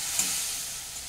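Raw tomato pieces and torn green chillies fry in a hot pan with a loud, even, hissing sizzle that holds steady throughout, close by and without any voices.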